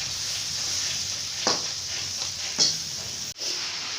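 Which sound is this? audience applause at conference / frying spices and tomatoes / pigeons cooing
frying spices and tomatoes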